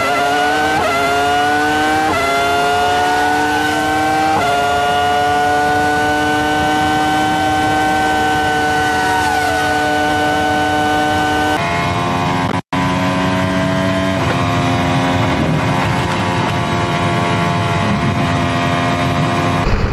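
Race cars at full throttle on the Spa-Francorchamps circuit scream past in a loud, layered engine howl with rising and shifting pitches. Several passes blend one into the next, and a brief gap comes partway through.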